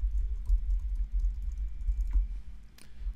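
Typing on a computer keyboard while entering an email's subject and body text: a steady run of quick, light key clicks at close range, with no talking.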